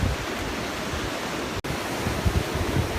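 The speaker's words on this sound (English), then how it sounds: "This is the Atlantic Ocean." Atlantic Ocean surf washes steadily onto a beach during pouring rain, a dense, continuous hiss and roar with no voices.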